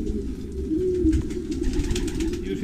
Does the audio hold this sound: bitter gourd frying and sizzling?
no